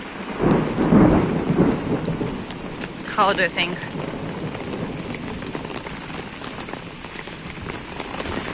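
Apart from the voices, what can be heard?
rain and thunderstorm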